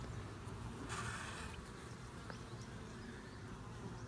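Honey bees hum around an opened nucleus hive during an inspection, a continuous close, faint buzzing drone with brief louder passes of individual bees.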